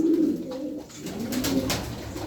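Pigeons coo softly and steadily nearby, overlapping low throaty calls with some rustling, no talking.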